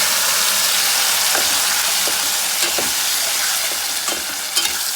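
Green chillies and asafoetida fry in hot oil with a dense, even sizzle, broken by soft scraping taps of a spoon stirring the pan, close and continuous without speech.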